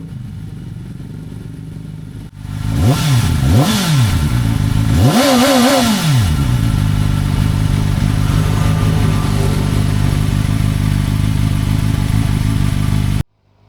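A 2024 Kove 450RR Pro motorcycle engine starts up loud and close, revving sharply several times in rising and falling bursts, then settles into a steady idle rumble before cutting off.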